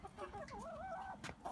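A chicken clucks briefly up close while chickens eagerly await slugs, a short warbling call over a quiet background.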